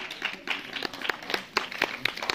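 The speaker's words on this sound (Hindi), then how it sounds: "उसके लिए जोरदार तालियां भाई" Applause for a student being honoured at a school Independence Day event, a lively scattering of claps with irregular sharp bursts from a nearby crowd.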